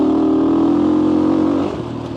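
Motorcycle engine revving loudly while being ridden on a flat road, a steady throaty drone that holds strong then eases off near the end, with no talking.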